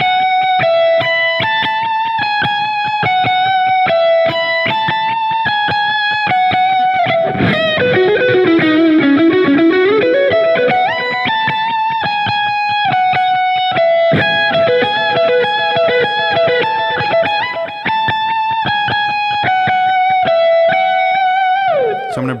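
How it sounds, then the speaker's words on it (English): Lead electric guitar plays the second solo of a song, loud and distorted, with fast melodic runs, a sweeping bend-heavy passage midway and sustained high notes. "the second guitar solo sounds something like this"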